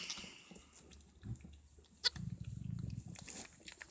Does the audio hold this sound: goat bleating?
yes